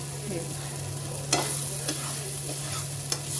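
Masala spices fry in oil for an egg curry, a close steady sizzle broken by a few sharp stirring scrapes and taps from a spoon against the pan.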